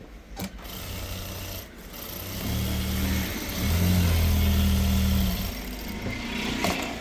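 An electric sewing machine stitches a shirt collar in short bursts of whirring motor hum, rising and falling as it speeds up and pauses, close and loud, with no talk over it.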